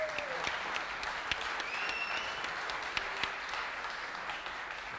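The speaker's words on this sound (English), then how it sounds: "give yourself a big applaud" Audience applause at a tech conference keynote, a steady wash of clapping from a crowd lasting throughout, moderately loud and even with a few sharper claps standing out.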